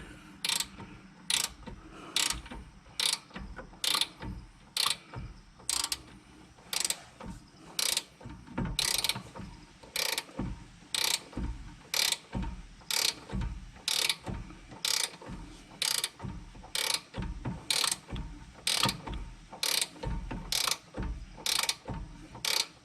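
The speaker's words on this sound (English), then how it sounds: "I'm going to use my ratcheting wrench to try to tighten that up." A ratcheting wrench tightening a brake bolt on a 2006 Nissan Altima, with sharp ratchet clicks repeating in a steady rhythm of short bursts over about twenty seconds. The clicks are close and loud, with no speech.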